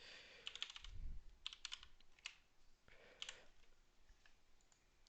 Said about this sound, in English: you can hear every click and clack of my keyboard.